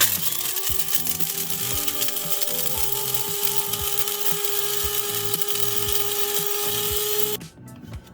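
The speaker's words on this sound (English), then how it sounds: "Next, we're going to grind up the allspice." Allspice berries ground in an electric grinder, a loud steady mechanical whir with a rattling, churning pulse that runs continuously before cutting off abruptly near the end.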